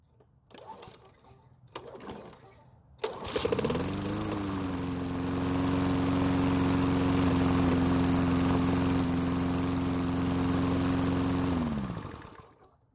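A Lawn Boy lawn mower's small engine sputters to life after a few faint knocks, then runs loudly and steadily with a droning hum for several seconds before cutting off.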